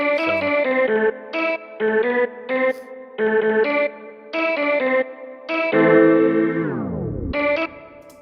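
A bright synth melody played on one-shot samples in short staccato notes, processed with chorus and distortion, ending on a long held note that bends sharply downward.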